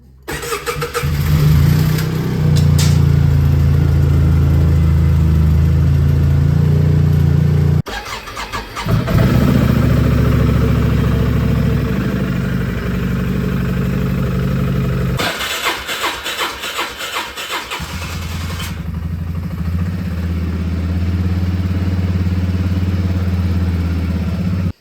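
Engines cranked and started, then left idling, with loud low rumbling idle stretches broken by cranking bursts and restarts, close and steady with no talk.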